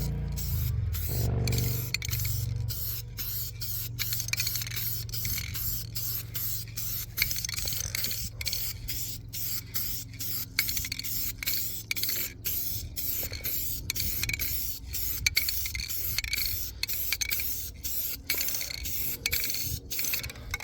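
A Rust-Oleum spray can fitted with a custom 5-in-1 nozzle hisses loudly and steadily at close range, a continuous spray with faint clicks and small interruptions throughout.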